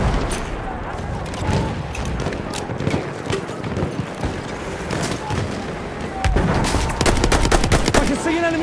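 Battlefield 1 multiplayer gameplay features bursts of machine gun fire and scattered gunshots crackling amid battle noise, growing louder toward the end.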